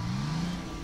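A brief, steady revving growl from the Maus heavy tank engine in World of Tanks, loud and close with no voices over it.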